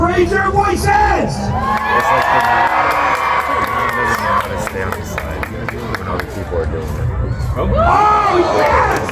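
A Renaissance fair crowd cheers and whoops for a contestant named Andrew, loud shouts and children's yells swelling, dipping slightly, then rising again near the end, with an announcer's voice among them.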